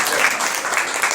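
An audience at a religious assembly in Gaya claps in dense, sustained applause.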